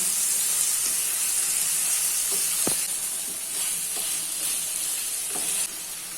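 Chicken fries in a pan of spiced masala, giving a steady bright sizzle and hiss with occasional stirring scrapes and clinks, close and without speech.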